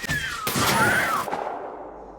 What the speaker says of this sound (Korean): 총소리에 벤은 급하게 비행기로 돌아왔고